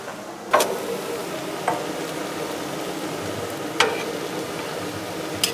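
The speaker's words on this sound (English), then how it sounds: "Get that sauteed up a little bit of garlic." Garlic sautéing in a pan for drunken noodles, a steady soft sizzle with a few sharp clicks and taps of a utensil against the pan, close by with no talking.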